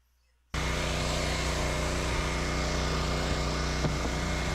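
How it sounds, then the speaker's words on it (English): After a brief silence, a hot air welder joining PVC roofing membrane starts up and holds a loud, steady blowing whine and hum, unbroken to the end with no talk. "now I start welding and test it."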